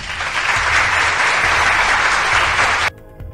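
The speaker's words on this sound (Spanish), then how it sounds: "Aplauso para nuestra amiga" A burst of loud, dense applause from a crowd, clapping steadily before cutting off abruptly at the end.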